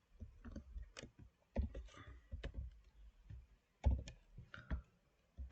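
Close, quiet clicking on a computer keyboard comes in short irregular bursts of taps with brief pauses between them.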